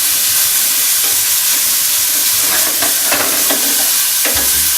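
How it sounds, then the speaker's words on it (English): Chopped onions hit hot oil in a pan, giving a loud, steady sizzle and hiss throughout, with a few wooden-spoon stirs and scrapes near the end. "So we're going to go ahead and add the onions. A beautiful, nice sizzle."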